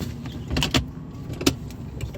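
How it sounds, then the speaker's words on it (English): An electric car sunroof opens inside the cabin on a warm day, giving a couple of short motorized whirs and soft mechanical clunks against a low, quiet interior hum. "I'm going to open up the sunroof"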